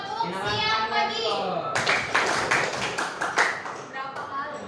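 Children in a classroom clapping game chant together, then break into a run of sharp, roughly even claps in unison, loud and close, with their voices continuing between the claps.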